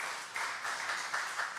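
Church congregation applauding to welcome visitors at a Sunday service, faint, steady clapping from a group, with rhythmic swells over a short stretch.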